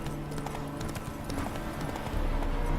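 Roach the horse galloping in The Witcher 3, rapid rhythmic hoofbeats pounding close and loud over a continuous game background.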